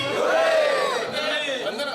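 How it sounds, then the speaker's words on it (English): Crowd at an Oppo phone unboxing event held in flight roars a loud, sustained group cheer, many voices rising together and then tailing off. "3 cheers, hip hip."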